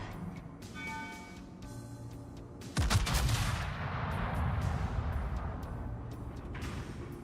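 A tank shell fires in a video game as one loud, sharp blast with a booming decay, preceded by quieter rumbling engine noise and followed by sustained low battlefield rumble.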